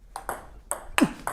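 Table tennis ball struck against a Rasanter 37 rubber, the softest of four sponge hardnesses: three or four sharp, fairly loud clicky pings spaced irregularly, with no talking.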